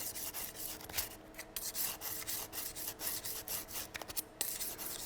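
A knife is sharpened on a wet diamond whetstone in steady back-and-forth rasping strokes, close and fairly loud with a gritty scraping texture and no voices.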